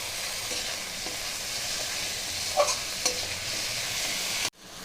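Ginger, garlic and onion frying with tomato and chilli in a pan for a home-style egg tarka, a steady close sizzle with a couple of brief stirring clinks, cutting off abruptly near the end.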